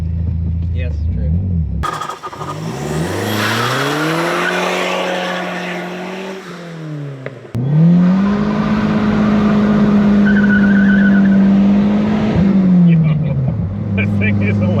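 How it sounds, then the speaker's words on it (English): A 1985 Dodge minivan with a swapped-in SRT4 turbo engine revs hard with screeching tire spin, rising and falling engine pitch, and sharp turbo blow-off and wastegate whooshes in two loud bursts, with people talking. "Tires spinning, blow-off valves going nuts, wastegates opening."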